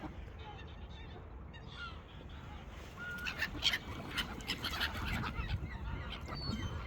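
Ducks, geese and swans honk and quack, starting faint and growing louder and busier partway through, with a low rumbling background.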